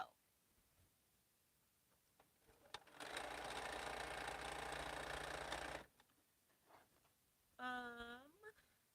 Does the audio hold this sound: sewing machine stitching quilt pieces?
yes